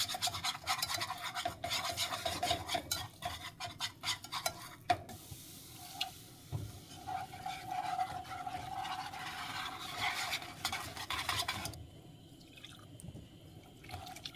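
A flour roux for French white sauce, made for Greek moussaka, is stirred steadily in a pan, giving a continuous scraping, rasping rub with a faint sizzle that stays close and even and quietens near the end.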